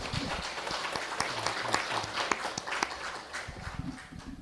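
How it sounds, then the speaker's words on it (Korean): A church congregation clapping after a sermon, a moderately quiet stretch of irregular hand claps from a group, fairly steady across the few seconds with no talk over it. "말씀을 주신 하나님께 박수로서 영광을 드렸으면 좋겠습니다."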